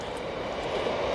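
A train bound for Halifax rumbles past, a steady, broad roar of wheels and engine held at an even, fairly loud level for just over a second, with no talking.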